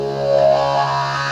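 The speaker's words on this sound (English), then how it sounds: "you get a really heavily filtered effect" Electric guitar through wah and fuzz pedals placed in reversed order produces a heavily filtered, nasal sustained tone that swells and sweeps, played loud and close with no voices.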